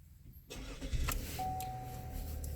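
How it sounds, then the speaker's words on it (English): A car engine cranks via push-button start and catches after a brief pause, then settles into a steady idle while a thin electronic tone sounds in the background. "hold your push to start button until the engine successfully starts"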